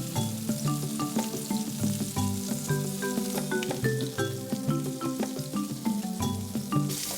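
Scallops sear in hot oil in a pan with a continuous crackling sizzle, joined by occasional scraping and tapping as they are moved, close and steady throughout.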